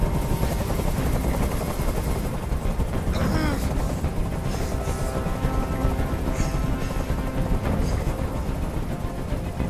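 A helicopter hovers close by with a loud, constant rotor drone in the video game Detroit: Become Human, joined by brief sharp bursts that sound like distant gunfire.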